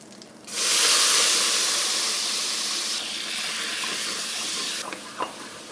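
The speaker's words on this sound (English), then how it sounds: "And about a tablespoon of rice wine. This will help deglaze our pot." Rice wine splashed into a hot pot with chicken-infused oil over medium heat hisses into a loud, steady sizzle of steam that eases slightly partway through, with a faint clink near the end.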